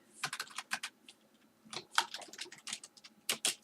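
Bursts of crisp, close key clicks as someone types on a computer keyboard while working in Excel, separated by short pauses.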